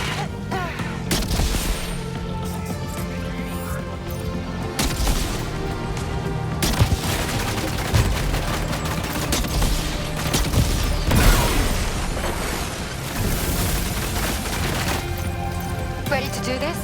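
Gunfire in the video game Death Stranding 2: On the Beach, shots and bursts running under a steady, dense mix of game music and effects, with occasional louder impacts.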